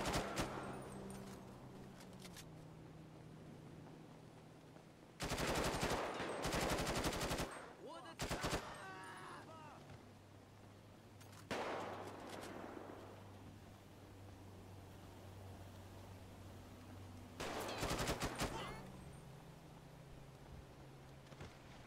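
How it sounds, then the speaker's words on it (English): Guards open fire in the FiveM (GTA V) game, loud bursts of rapid automatic gunfire in several separate volleys with quieter stretches between them. "Once you get close, the guards will start to shoot if you have them enabled."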